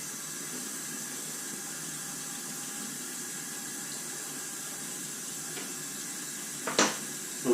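Cold water runs steadily from a tap into a sink, a continuous hiss that stays even and fairly quiet throughout, with a couple of brief clunks near the end.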